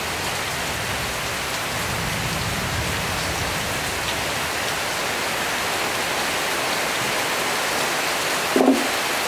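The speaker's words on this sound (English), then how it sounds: "Pouring down rain out here today while I'm working on this." Heavy rain pours down outdoors in a steady, loud hiss of drops hitting surfaces, unbroken throughout with one brief knock near the end.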